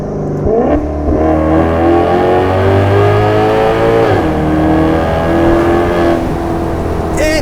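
A 2015 Maserati GranTurismo engine revs hard and loud, rising and falling through several throttle blips before settling into a sustained roar.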